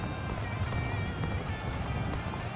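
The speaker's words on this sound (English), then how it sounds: "I always feel bad running people over with a horse." Galloping horse hooves from the video game Dynasty Warriors: Origins pound in a steady, rapid clip-clop rhythm, close and loud, continuing throughout.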